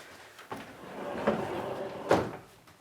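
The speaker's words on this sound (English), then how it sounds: "it had to be a sliding door because obviously you don't have a lot of space" Sliding door on a compact tiny house built with SIPs, rolling open or shut with soft rumbles and a couple of clunks and thuds, close by in a quiet interior.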